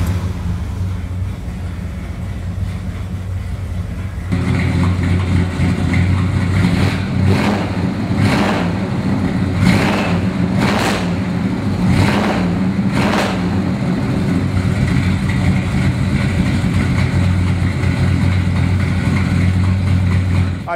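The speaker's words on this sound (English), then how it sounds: "I would like to go ahead and fire it up for you so you can just hear the sound that this car makes" A 1969 Chevrolet Chevelle Yenko 427 convertible's V8 fires up after a few seconds, settles into a loud, close idle and is blipped in several sharp revs, with no talking.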